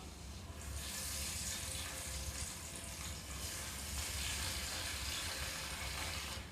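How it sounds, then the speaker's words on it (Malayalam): Marinated prawns fry in hot oil, a dense continuous crackling sizzle held steady and close throughout. "ഇത് നമുക്ക് ചൂടായ എണ്ണയിലിട്ട് വറുക്കാം"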